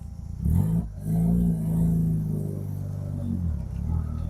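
A first-generation Mazda RX-7 fitted with an RX-8 six-speed transmission pulls away, its engine droning low and steady with a brief rise in revs, loud and close, heard from inside the car.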